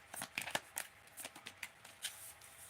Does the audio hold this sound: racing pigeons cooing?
no